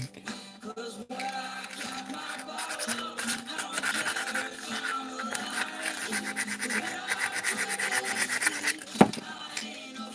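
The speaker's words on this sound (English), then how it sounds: "That's about as far into the sanding as I'm going to get." Steady rasping scrubbing as wood is sanded by hand, continuous back-and-forth friction with a few knocks, alone without talk.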